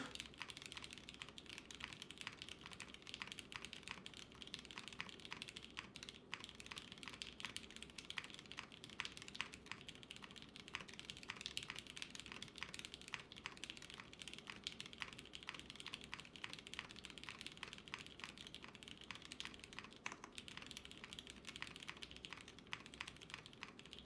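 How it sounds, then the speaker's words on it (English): Fast, steady typing on a custom-built mechanical keyboard, a dense run of quick key clacks heard close up and alone for the whole stretch. "I can't type slow on it. I have to type fast."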